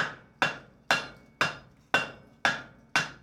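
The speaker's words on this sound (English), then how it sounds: "Go ahead and hammer on around on it there." A hammer rings on a hot forge-welded chain link in a blacksmith's ironworks, seven sharp metallic strikes at a steady half-second pace, each close and loud with a quick ringing decay.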